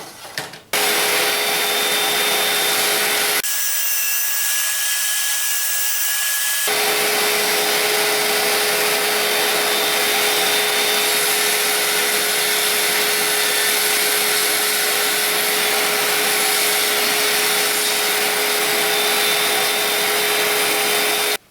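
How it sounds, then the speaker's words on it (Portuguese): A power saw cuts wood at a measured angle for a box with sloped edges: a loud, steady high whine runs nearly the whole time, briefly dropping in pitch as the blade bites before resuming. "Corte devidamente zerado,"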